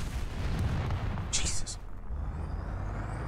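A tank explodes in an online tank battle video game, a deep rumbling boom that swells and lingers with a bright crackling burst midway, heavy low-end roar throughout.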